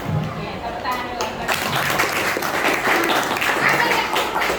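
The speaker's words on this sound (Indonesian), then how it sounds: "Oke, tepuk tangan dulu." A class claps hands together in sustained applause, a dense and steady patter that starts after a brief pause and stays loud and close to the end, with some voices underneath.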